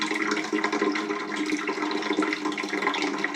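Water rushes steadily through a steam boiler pipe as mud and gunk are flushed out, a continuous close gushing wash with no pauses and no voices.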